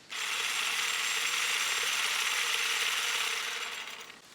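A Karcher GSH 18-20 cordless shrub shear cuts branches with a close, steady buzzing chatter of its blades that runs for about four seconds and then fades.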